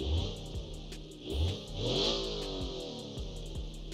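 A 2019 super convertible's exhaust revs from close by, swelling twice and then settling into a rough, throbbing idle with sharp, regular pulses.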